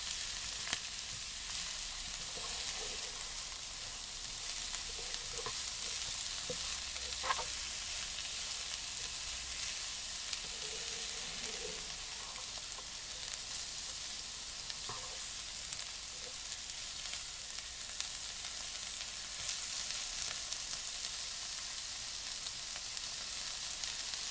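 Vegetables fry in a pan with a soft, steady sizzle, faint and even throughout, broken by occasional small stirring clicks.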